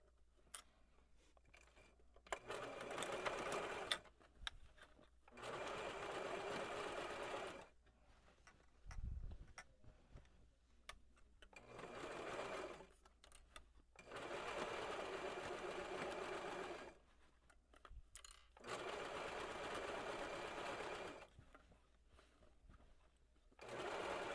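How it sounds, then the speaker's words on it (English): A sewing machine stitches the side seam of a shirred dress, running in several sustained bursts separated by quiet pauses with small handling clicks, close and alone without talk. "We're going to sew down the entire side along the outer edge of the hidden pocket down to the hem."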